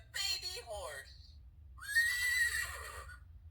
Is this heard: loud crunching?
no